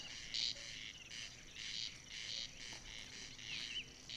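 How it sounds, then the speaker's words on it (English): A grasshopper warbler's faint, continuous high reeling trill runs steadily at night, with a few brief chirps and rasps from other birds in the quiet background. "Grasshopper warbler."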